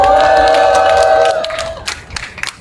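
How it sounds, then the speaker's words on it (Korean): A crowd at a construction workers' rally outside Suwon Station breaks into scattered, fairly loud clapping as sustained music fades out. "동지들께 다시 한번 힘찬 박수 부탁드리겠습니다"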